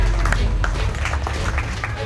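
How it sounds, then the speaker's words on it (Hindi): An audience at a state-level community conference in Kamalpur Navtoli claps, a fairly loud, continuous patter of hands with a heavy low rumble underneath and scattered sharper claps. "जोरदार ताली।"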